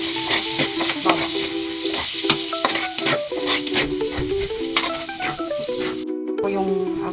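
Garlic sizzles and fries in a pan after pork has been removed, a loud, constant crackle right up close, broken by repeated stirring scrapes, with a brief cut near the end.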